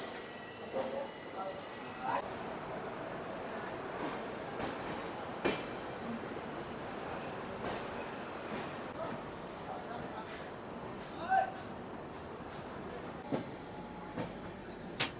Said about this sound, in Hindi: पंडित दीनदयाल उपाध्याय जंक्शन से अपनी ट्रेन निकल चुकी है